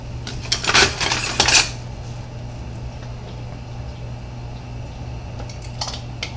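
Peach BBQ sauce is ladled into a hot canning jar, with a few sharp clinks and scrapes of metal against glass near the start and again at the end over a quiet steady background hum.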